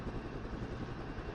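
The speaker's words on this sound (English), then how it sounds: "Chopper!" Helicopter in the wargame Flashpoint Campaigns Southern Storm, a steady low rotor thrum and engine drone filling the scene without a break, fairly close and even in level.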